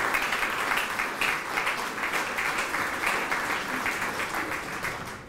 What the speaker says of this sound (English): So I think we should give that a round of applause.